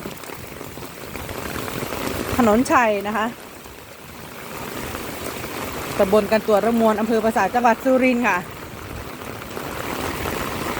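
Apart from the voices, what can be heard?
rain falling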